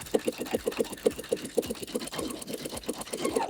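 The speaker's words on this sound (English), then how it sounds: "we're going to continue sewing down the other side of that line" A sewing machine stitches a seam on a shift dress with pockets, running in a fast, even rhythm of needle clatter at close range.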